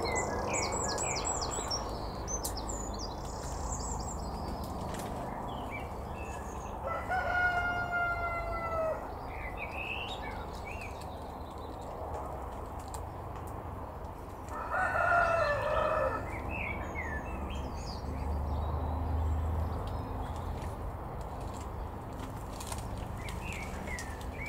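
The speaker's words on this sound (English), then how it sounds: "Hear that cockerel?" A cockerel crows twice at an outdoor allotment, each drawn-out call rising and falling at moderate distance, over steady ambient birdsong and chirping, with no talk.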